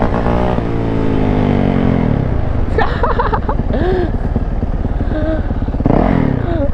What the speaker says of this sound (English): Bro, look at me doing donuts.